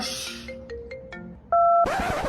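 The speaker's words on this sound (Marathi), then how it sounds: "फोन आलाय" A short electronic ringtone melody plays in a few clear tones, then a burst of louder noise cuts in.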